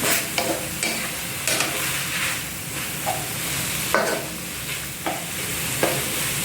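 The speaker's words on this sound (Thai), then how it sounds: "ผัดหมูสับใส่ผัก แล้วก็วุ้นเส้นนะ ผัดให้สุกเลย" Minced pork, vegetables and glass noodles are tossed in a hot pan. Brisk, regular spatula scrapes, roughly one every half second, ride over a continuous sizzle heard up close.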